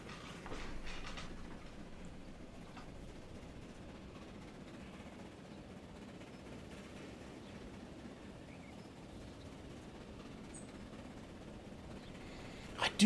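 A train running in the video game Transport Fever 2 on a semi-arid canyon map, a steady low rumble with faint clickety-clack that holds evenly throughout, with no talking.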